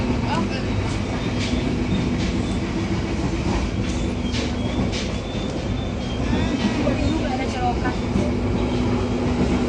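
Steady rumble and rattle of a moving train carriage from inside, with continuous low track noise and faint clicks throughout.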